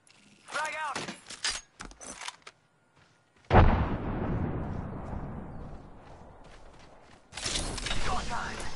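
A frag grenade goes off in a video game with a sudden loud, booming blast that rumbles and fades away over several seconds. Game voices talk before and after it.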